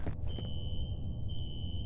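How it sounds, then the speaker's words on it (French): A fire alarm in the video game F.E.A.R. sounds as a steady, piercing electronic tone that holds continuously over a low background rumble, with a brief dip near the end. "Une alarme anti-incendie."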